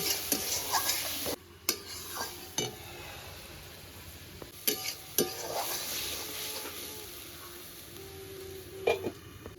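Spice masala for an egg curry frying in a covered pan, a steady sizzle with a few sharp clinks of a spoon or lid against the pan, close and fairly quiet, with no talking.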